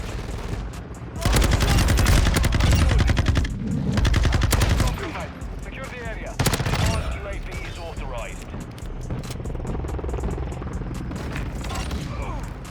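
Bursts of light machine gun fire from a Sakin MG38 in the online shooter Modern Warfare 2, loud rattling volleys in the first seconds and again mid-clip, with a player's excited voice running over the firefight.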